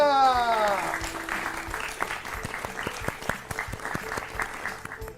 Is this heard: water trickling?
no